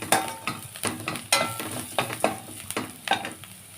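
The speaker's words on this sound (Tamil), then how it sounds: "இப்போ பூண்டு நல்லா வதங்கட்டும்." Garlic fries in hot oil in a pan while making sirukeerai poriyal, a soft sizzle under repeated sharp scrapes and clinks of a spoon stirring against the pan, without any talk.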